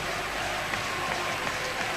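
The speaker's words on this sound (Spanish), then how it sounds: "aplaude como le ven el presidente del Racing de Santander" Applause from a football stadium crowd at a 1994–95 Racing Santander versus Real Madrid league match, a steady dense wash of clapping and crowd noise that holds throughout.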